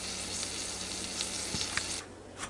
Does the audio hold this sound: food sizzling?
yes